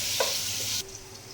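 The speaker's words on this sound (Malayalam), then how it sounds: "നന്നായി ഒന്ന് ഇളക്കി കൊടുത്ത് നല്ലപോലെ ഒന്ന് മിക്സ് ആയ ശേഷം നമുക്ക് തക്കാളി ചേർത്ത് കൊടുക്കാം" Onion, ginger and garlic sizzle in ghee as they are stirred in a pan, a brief steady hiss that drops off sharply partway through.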